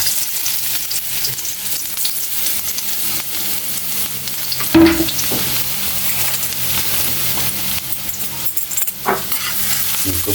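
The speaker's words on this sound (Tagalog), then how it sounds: "gigisa na natin kaili ang ating luya" Chopped ginger sautéing in hot oil in a pan for squid adobo, a steady close sizzle with occasional scraping stirs and a clack of the utensil against the pan.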